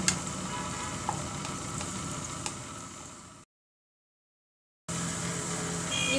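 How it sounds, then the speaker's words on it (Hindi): Garlic frying lightly in a pan for a baby corn curry, a soft steady sizzle with faint stirring clicks, broken by a brief stretch of silence before the sizzle resumes. "लहसुन डाल के इसको भी हल्का सा फ्राई करेंगे।"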